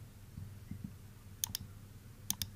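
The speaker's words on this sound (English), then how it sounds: "you have to double click on default" Two computer mouse double clicks, each a crisp pair of quick clicks, the second pair about a second after the first, close and faint over a quiet low hum, with no talk.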